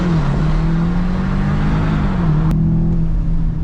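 VW Arteon R Shooting Brake with a 7-speed DQ500 gearbox launching hard, its engine droning loud and steady from inside the cabin as revs rise, with a brief dip at a shift.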